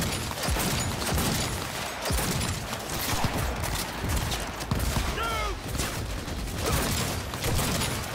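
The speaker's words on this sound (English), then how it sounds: "I shot this in the head twice" Cyberpunk 2077 gunfire: scattered sharp shots crack out amid dense, busy game noise, fairly quiet overall, with a few distinct reports standing out over a few seconds.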